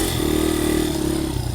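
A dirt bike engine revs as it is put into first gear, a close, loud droning growl that holds steady for a second and a half.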